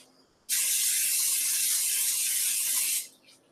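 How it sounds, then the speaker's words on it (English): Professional non-stick cooking spray hisses from an aerosol can into a skillet in one steady, loud burst lasting about two and a half seconds, close up with no talk. "And this is professional non-stick spray."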